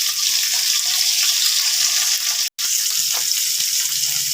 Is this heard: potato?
yes